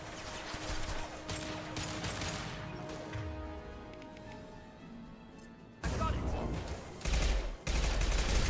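Impact shot weapon firing in the Mass Effect Legendary Edition video game, heard as loud heavy blasts and crashes in bursts near the end, over a dense bed of game noise and background sound.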